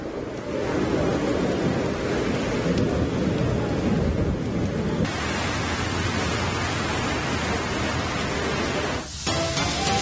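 Heavy rain pounds down in Bengaluru with thunder, forming a loud, unbroken roar of downpour with deep low rumbling. The texture shifts partway through and briefly dips near the end.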